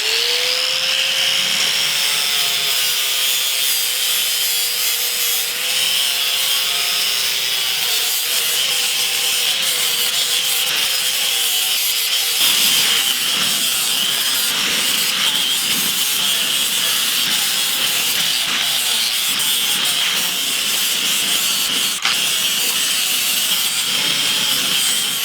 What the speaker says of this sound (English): sandpaper on here that's gonna be sanding away all of this rust